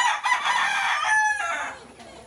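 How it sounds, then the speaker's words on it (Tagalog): An Asil hen, a fierce game-fowl breed, clucks and crows loudly and close by in a pen, one continuous harsh call that trails off. "May tayong isang hen dito na kinulong natin kasi sobrang tapang."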